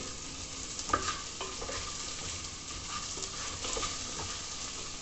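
Mango pieces added to a prawn curry and stirred in the pan, soft continuous sizzling with several distinct spoon scrapes and clinks against the pot, close and fairly quiet, no speech.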